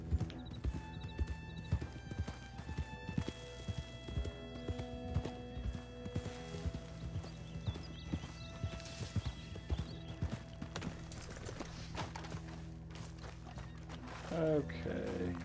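Horse hooves clip-clopping steadily in Red Dead Redemption 2, a rhythmic run of hoofbeats with occasional whinnies over a continuous game soundtrack and ambience, with a brief extra noise near the end.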